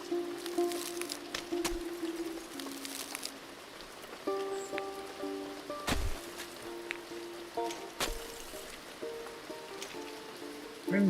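Rain falls in the video game Press Any Button as a soft, constant patter, with scattered drips and sharper taps, under quiet, sparse musical tones.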